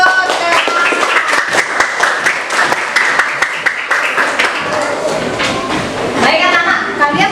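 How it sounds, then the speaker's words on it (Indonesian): Schoolchildren in an Indonesian classroom clap for a group, a loud burst of many hands beating fast and unevenly that lasts several seconds and then thins out. "Tepuk tangan buat ketok."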